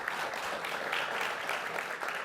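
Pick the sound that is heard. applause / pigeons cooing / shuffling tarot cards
applause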